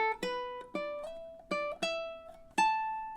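Fingerstyle ukulele picks out a short summery melody, bright plucked notes with ringing harmonics arriving in a steady uneven rhythm, about eight notes over a few seconds, close and clean with no voices.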